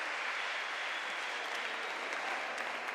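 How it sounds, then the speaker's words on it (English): Audience at a European jigsaw puzzle championship cheering and applauding, a dense, steady wash of clapping from a crowd, fairly distant and continuous throughout. "Everyone cheering."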